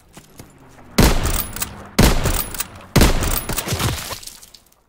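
Sniper rifle fire in Call of Duty: WWII: three loud, sharp shots roughly one second apart, each with a short echoing decay, after a quiet start.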